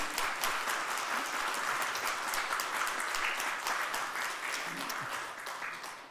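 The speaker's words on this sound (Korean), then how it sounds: "박수로 우리 환영하도록 하겠습니다." Warm applause from an indoor church audience at a Sunday service, many hands clapping steadily at moderate volume, tapering slightly toward the end.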